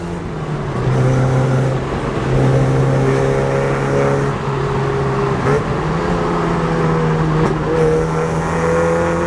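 A Mazda MX-5 roadster on semi-slick tyres runs with a loud, steady engine drone that holds its pitch with slight rises in revs, heard from close by for several seconds.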